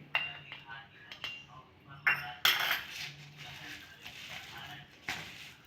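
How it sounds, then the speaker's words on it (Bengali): Potato and onion pakora batter being mixed with gram flour in a metal bowl, giving irregular clinks and scraping knocks of utensil against the bowl, moderately close, with a few sharper clanks among them. "এটা আমার ভালো করে মেখে নিয়েছি।"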